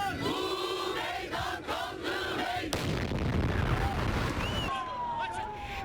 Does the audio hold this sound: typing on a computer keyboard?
no